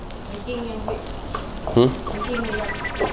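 Food stir-fried in a pan, a continuous sizzle with spatula scrapes and a brief louder clatter midway, close and fairly loud, while a voice talks briefly over it.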